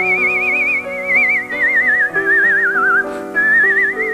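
A competitor at a whistling championship in Lewisburg whistles a melodic tune with pronounced vibrato, loud and close over a soft musical accompaniment, phrases gliding and briefly pausing.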